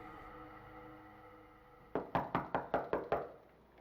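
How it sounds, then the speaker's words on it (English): A front door is knocked on in a burst of six quick, firm raps, close and loud against a low, steady ambient music bed. "there came a knock at the door"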